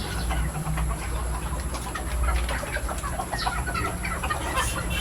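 Chickens cluck repeatedly nearby, a busy flock chattering over steady background noise, with no talking.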